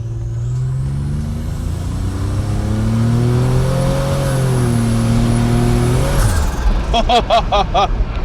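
A 1987 Buick Grand National launches hard from a dead stop, its engine roaring loud and rising through the gears for several seconds before a shift and a fluttering burst of turbo and exhaust noise at the end.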